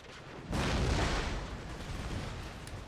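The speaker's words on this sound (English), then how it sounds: "Cannon." Booming cannon artillery fire in Empire Total War erupts as a loud broadband blast at about half a second, then rolls on as a sustained rumbling roar with scattered cracks, no voices present.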